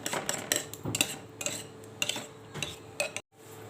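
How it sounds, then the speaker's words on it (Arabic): A spice mixture for duck, with pepper and cinnamon, is stirred in a bowl, making a series of close, quick clinks and scrapes of a utensil against the bowl's sides in an irregular rhythm. "هقلب بقى الخليط ده كله."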